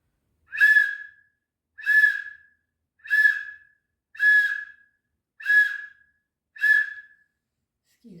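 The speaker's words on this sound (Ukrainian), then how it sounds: "А зараз я буду грати ось на такій от гармошиці." A toy harmonica sounds six separate, evenly spaced notes, each a short bright reedy tone of the same pitch with a soft fade, alone and close by against silence, with a faint voice starting at the very end.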